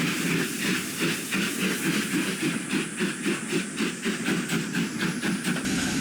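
A steam locomotive working along a railroad, heard as a steady rhythmic chuffing with hissing steam and faint clickety-clack of wheels, fairly close and continuous with no talk.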